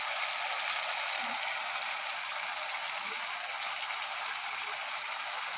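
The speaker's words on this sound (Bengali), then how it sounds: "জলটা ফুটছে।" Water at a steady rolling boil in a pan of fried spices, a constant dense bubbling hiss that stays loud and even throughout with no voices.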